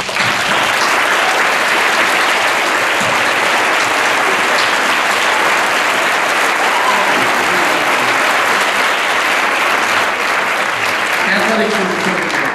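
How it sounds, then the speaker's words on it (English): A high school awards-ceremony audience gives senior athletes a long round of applause, with dense, loud clapping sustained for the whole stretch and scattered cheers mixed in. "You deserve a round of applause."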